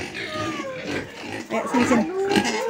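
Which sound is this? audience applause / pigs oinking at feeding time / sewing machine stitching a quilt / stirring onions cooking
pigs oinking at feeding time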